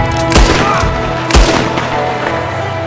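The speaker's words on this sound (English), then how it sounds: "You can shoot him right here." Gunfire in the Red Dead Redemption 2 video game: two heavy booming shots about a second apart over a steady loud game background.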